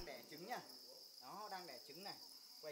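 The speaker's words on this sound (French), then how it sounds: "Monsieur Zung partage souvent son travail d'élevage de grillons d'herbe dans sa ferme sur les plateformes de réseaux sociaux." Grass crickets on a cricket farm in the Lâm Đồng highlands keep up a steady, high, faint chirping drone, with voice-like sweeping tones over it.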